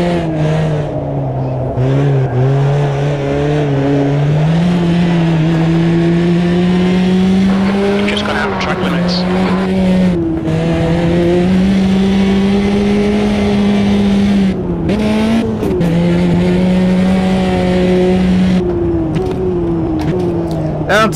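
A race car drifts through corners in Automobilista 2, its engine revving up and down in long sustained notes as tires squeal and skid, loud and continuous throughout.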